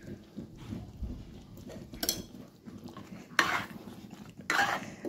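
Ghee is stirred into kalakand mixture in a pan, with a spoon scraping and clinking against metal in a few sharp bursts between quieter scraping, close up and alone.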